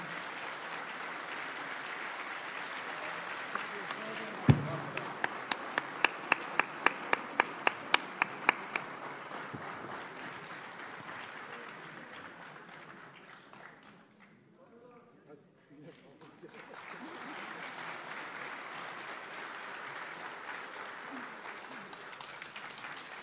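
An audience at a Turkish political gathering bursts into sustained applause, starting with a few sharp separate claps that grow into dense steady clapping. It fades briefly to near quiet, then swells again into continuous loud applause.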